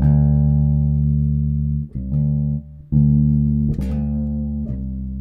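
A Gibson Thunderbird bass with a humbucker pickup rings out sustained low notes, loud and alone, with a few short breaks between notes as the tone knob shifts the brightness.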